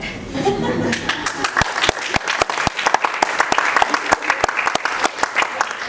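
An audience at a lecture claps, starting in a full burst then thinning to scattered, uneven claps, with a voice talking faintly at the start.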